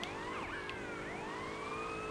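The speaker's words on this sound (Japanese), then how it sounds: "これサイレンの切り方が未だに分からへん。" A police car siren in the video game GTA Liberty City Stories wails continuously, its rising and falling sweeps loud and close for the whole stretch.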